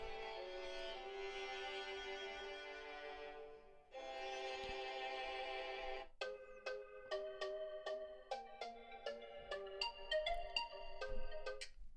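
Music blasting at full volume from an LG G8 ThinQ phone speaker: sustained bright synth tones give way to a rapid run of plucky, bell-like notes, loud and steady with no voices.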